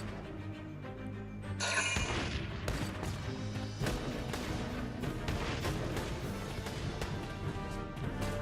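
Gunfire aimed at a cactus in Valkyria Chronicles 4, a steady barrage of loud game shots and impacts that starts abruptly after a quieter lead-in and continues densely throughout.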